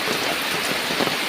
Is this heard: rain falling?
yes